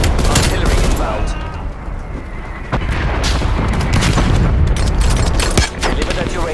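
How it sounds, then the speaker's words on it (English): Artillery strike explosions in Call of Duty: Black Ops Cold War, dense rolling booms and crackling blasts that carry on without a break, loud and busy, with game voice lines mixed in. "Artillery inbound."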